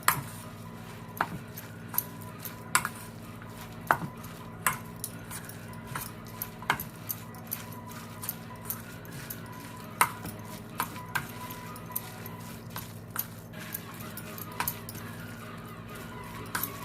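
Spinach kabab mixture is stirred in a big bowl, with a spoon knocking the bowl in fairly regular light clicks and soft scraping over a steady low background hum, and no speech.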